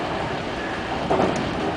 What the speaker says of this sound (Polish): Zostawiamy nasz pociąg, który nas dowiózł do Drzewicy.